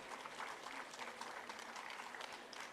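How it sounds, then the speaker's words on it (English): A graduation ceremony audience applauds in a large hall, a steady even wash of many hands clapping, heard from a distance at low level. "A huge round of applause."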